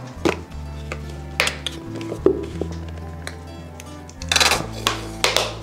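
Mayonnaise, mustard and ketchup being stirred together into a quick burger sauce at home, giving close clinks and scrapes of a spoon against a bowl over a low steady hum, with several sharper knocks.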